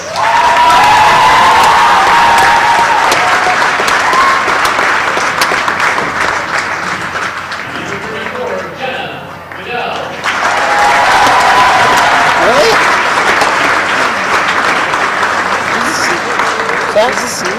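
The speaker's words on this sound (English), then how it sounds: "Let's give these young women a round of applause." Loud, sustained crowd applause and cheering in a gym at a girls' high school basketball game, Colfax Vikings against Elmwood/Plum City, dipping briefly midway and then swelling again, with voices mixed into the roar.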